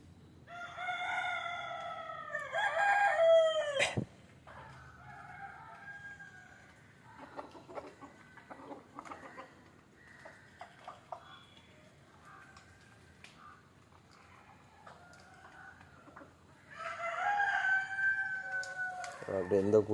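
Native village chickens cluck and murmur while a rooster gives loud, close crows at the start and again near the end, with quieter clucks and calls in between.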